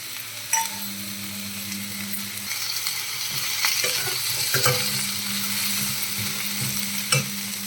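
Dry red chillies and whole garam masala frying for a butter chicken curry, giving a continuous crackling sizzle with busy stirring scrapes and a low hum running underneath.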